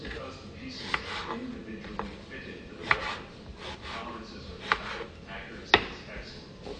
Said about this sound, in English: So after cutting this eggplant, I'm going to cut the tomatoes.